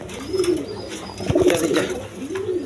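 A young pair of high-flying Giribaz pigeons coos nearby in three rounded, rolling calls, each swelling and fading, with light rustling between them.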